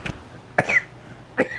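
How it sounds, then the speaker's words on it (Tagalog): Three short coughs, near and fairly loud, spaced out over a couple of seconds with faint background noise between them. "sabi ko sa inyo, may ubo ako eh"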